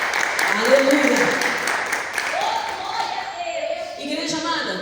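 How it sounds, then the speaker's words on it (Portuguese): A church congregation claps in praise during a Sunday morning service, a soft wash of hands under louder voices talking and calling out over it. "Podem se assentar e exaltar o Senhor com palmas de vitória."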